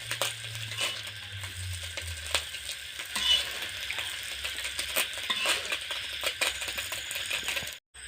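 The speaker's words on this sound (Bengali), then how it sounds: "এই সাইডে এই যে মৌরলা মাছ ভাজা হচ্ছে" Small mourala fish frying in hot oil in a kitchen pan, a steady bright sizzle with light crackles and a few clinks of utensils throughout, no talking.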